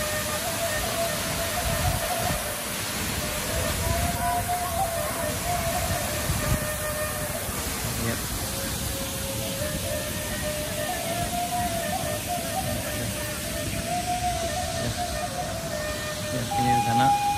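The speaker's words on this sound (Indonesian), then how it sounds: "Selamat datang di Taman Wisata Alam Lembah Arau, Air Terjun Nakabrayun." Waterfall at Lembah Harau nature park in West Sumatra, a constant broadband rush of falling water heard from nearby with a steady level throughout.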